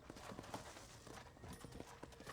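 Rhythmic clip-clop of horse hooves, fairly faint, with a brief whinny mixed into a Red Dead Redemption game soundscape.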